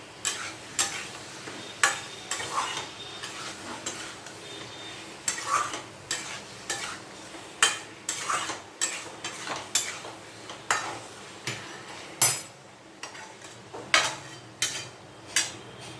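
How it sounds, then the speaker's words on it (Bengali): A utensil stirs chopped bottle gourd with spices and salt in a pan, making repeated scraping clacks at an uneven rhythm over a soft sizzle, close and clear throughout. "এবারে আরেকটু লাউটা দিয়ে আমি একটু নাড়াচাড়া করে নিই।"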